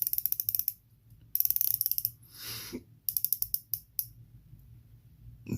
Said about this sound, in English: easy to grip and easy to turn